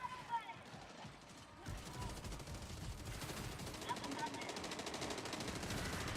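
Strike gun fire in a video game, rapid continuous bursts of automatic gunshots building after a short quieter opening with mechanical clicks, with a voice talking over parts of it.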